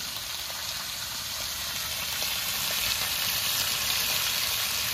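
Meat frying with tomato in a pan for a spiced mangsho curry, a loud, dense, continuous sizzle that holds steady and swells slightly, close with no talking.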